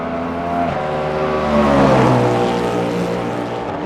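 A Porsche race car in Le Mans Ultimate, at the 24 Hours of Le Mans, comes out of the Porsche Curves onto the Ford Curves, its engine rising in pitch as it accelerates, loud and close.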